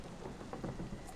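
Rumbling thunder with steady rain, a storm sound effect under a spoken story. A low, rolling rumble swells in the middle over a continuous wash of rain.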